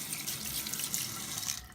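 Warm tap water runs steadily into a sink as a makeup brush is rinsed under it, a close, continuous splashing stream lasting under two seconds.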